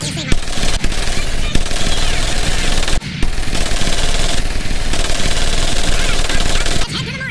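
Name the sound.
M1919A4 .30 caliber machine gun firing, video game Medal of Honor Pacific Assault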